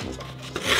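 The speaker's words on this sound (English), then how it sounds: "Now we're gonna try and sharpen it on our rock." A knife blade scrapes briefly across a rock as it is sharpened, a short rough rasping stroke, close and alone.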